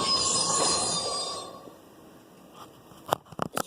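A LEGO City passenger toy train squeals and hums as it rolls into a station, loud at first and then fading, followed by a few sharp clicks and knocks as it stops.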